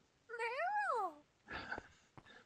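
Cat meowing in the Minecraft Pixelmon mod, a single drawn-out rising and falling meow heard clearly on its own, followed by a brief burst of other game noise.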